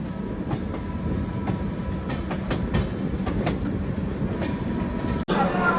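An empty passenger train runs steadily, with continuous rumble and a faint clickety-clack of wheels over rail joints, loud and close from on board, then a sharp brief dropout near the end before the noise resumes brighter.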